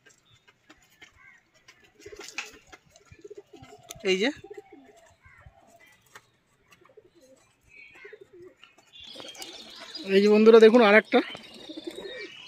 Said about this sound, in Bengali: এই যে দেখুন বন্ধুরা, এই যে টোটাল পায়রাটা